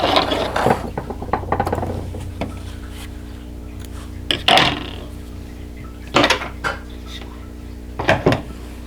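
A sewing machine runs in short bursts while stitching a quilt block seam, with mechanical clicking and ratcheting between runs and quiet pauses in between.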